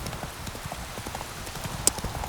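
Horse hooves clip-clop along in The Witcher 3, a quick, even rhythm of soft muffled hoofbeats at moderate distance, with a brief sharp click near the end.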